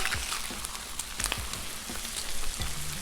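Ultra thin turkey bacon sizzles steadily on a Blackstone griddle, a close, even crackle with scattered pops and a few faint clinks of a utensil, with no talking.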